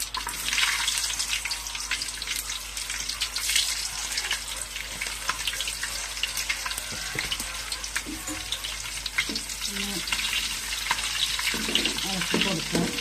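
Mustard seeds and garlic fry in hot oil for a mango pickle, a steady bright sizzle with faint popping throughout and soft clinks and low murmuring near the end.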